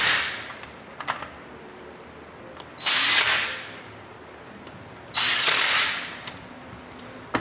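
Valve body bolts being tightened in a cross pattern with a power driver, two whirring bursts of a couple of seconds each, separated by quiet clicks and small handling noises.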